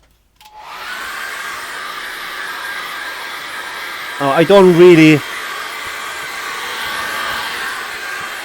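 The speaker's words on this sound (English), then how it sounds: "let's dry that off with a hairdryer" A hair dryer blows steadily and loudly from start to finish, drying acrylic paint, with a brief spoken remark partway through.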